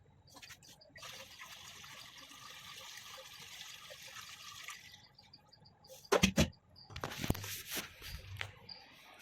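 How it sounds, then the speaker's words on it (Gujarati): Water trickles and pours steadily into a clay pot for several seconds, then a few louder splashes and sloshes close by; no talking. "આપણે માટલું ભરી લઈએ"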